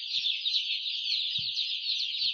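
A batch of young Vanaraja chicken chicks peeping continuously in high, shrill chirps, with a few faint soft thumps underneath.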